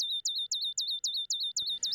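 A model-synthesized birdsong syllable repeats about eight times in a fast, even rhythm, each a high clean swooping chirp, clear and isolated against silence.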